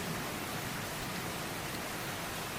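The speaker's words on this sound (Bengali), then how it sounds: "আপনারা নিশ্চয়ই বুঝতেই পারছেন বৃষ্টির ওয়েদার" Steady broadband rain falls in wet weather beside a village fish pond, a dense unbroken hiss that stays even and close throughout with no other sounds on top.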